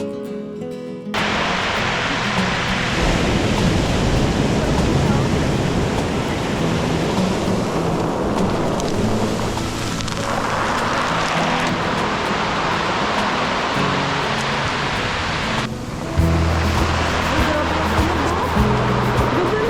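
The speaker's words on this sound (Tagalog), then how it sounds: "parang tsunami na sa akin yung dating ng dagat" Ocean waves roll and wash onto a beach near General Nakar and Dingalan, Philippines, in a continuous roar, surging louder and easing in slow cycles, with wind-like rushing throughout.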